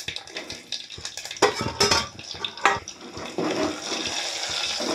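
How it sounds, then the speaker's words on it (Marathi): Finely chopped garlic fries in a Marathi-style tempering of cumin and mustard seeds in oil, a steady sizzle rising to a louder, fuller crackle partway through, broken by spoon-scraping clatters against the pan. "लसूण आपल्याला खरपूस रंगावर येईपर्यंत परतून घ्यायचा आहे तेलामध्ये छानपैकी।"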